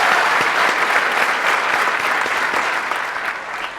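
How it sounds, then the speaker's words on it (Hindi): Loud, close applause from an audience fills the moment, dense rapid clapping that tapers slightly near the end. "जोरदार तालियां"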